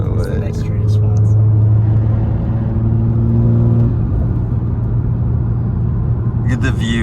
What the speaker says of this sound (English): the intake sounds good. I'm doing a pull right the fuck here